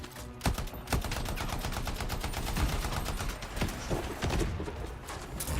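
Rapid gunfire aimed at boss turrets in the video game Anthem, loud and sustained, with dense repeating shots in quick bursts and no pauses throughout.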